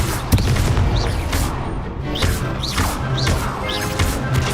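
Repeated fiery Confringo blasting-spell explosions from Hogwarts Legacy, a string of booming bursts with crackling whooshes layered over dense game sound, no voices.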